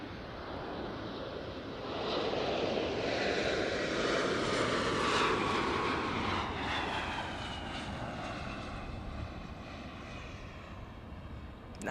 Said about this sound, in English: Nice touchdown there by the E175.